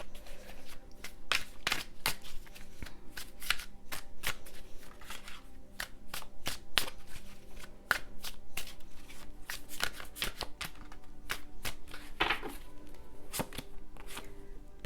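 Tarot cards are shuffled close up in quick, irregular bursts of crisp riffling and flicking that carry on throughout, with no speech.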